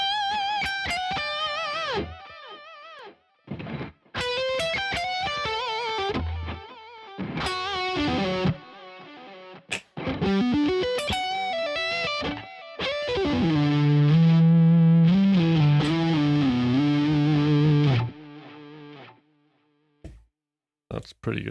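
Electric guitar played through a Polychrome DSP Nunchuck with ducking delay, loud distorted phrases and chords broken by short gaps where the delay swells back up, with a long sustained passage near the end.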